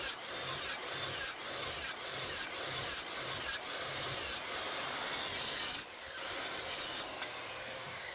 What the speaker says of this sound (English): then we'll take a chisel and chisel it out and make a nice slot for our 2x to sit in